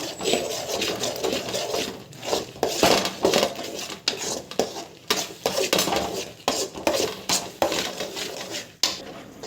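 A utensil scrapes and clanks against a metal pan in repeated, uneven strokes as fish curry with tamarind is stirred and mixed, close and busy, with no voices.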